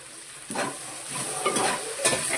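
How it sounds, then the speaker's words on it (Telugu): Okra curry fries in a pan with a soft, steady sizzle, broken by a few close scraping strokes as a spoon stirs it around. "ఇవి మంచిగా కలుపుతూనే ఉండాలి, లేకపోతే అడుగంటుంది"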